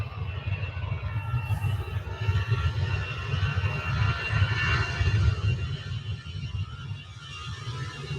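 Aircraft landing at Manchester Airport, arriving from Belfast: a steady, moderately loud jet engine roar with a broad rushing hiss, sustained throughout without speech.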